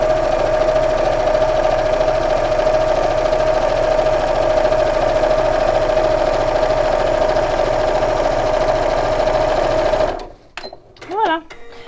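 A sewing machine stitches patchwork fabric with a fast, steady mechanical whirr and hum. It runs close and loud for about ten seconds, then stops, and a person starts speaking.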